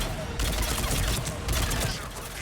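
Weapon fire in the Mass Effect 3 game comes as dense, loud bursts of shots that swell and ease in waves over about two seconds, with voices mixed in.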